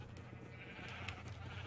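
Sheep bleat faintly in a Minecraft modpack game, soft, wavering calls over a steady background hum.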